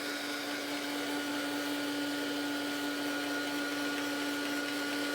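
Steady whirring blast of a hair dryer drying a mandala stencil craft project, a constant close motor drone with a whining tone and airy hiss, unbroken for several seconds.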